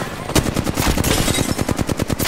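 Rapid automatic gunfire from a squad-based shooter video game, a dense stream of loud, evenly spaced shots running nearly the whole time with no pauses.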